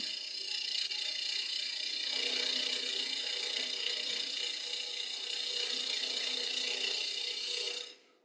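A wood lathe spins a peppermill blank with a steady whirring drone and a faint scraping texture, close and even, before winding down abruptly at the end.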